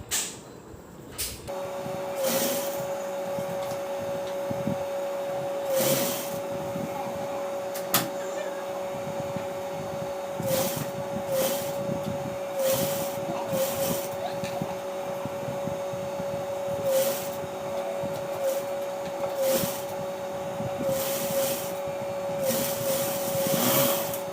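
Sewing machine stitching the side seams of a chudidar, a steady close mechanical whir running nearly the whole time with brief starts and stops, heard alone without talk.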